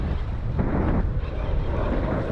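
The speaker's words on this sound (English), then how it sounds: "It's getting a little bit windy out here" Steady wind noise buffets the microphone over open water from a kayak out fishing, a continuous broadband rush with no speech.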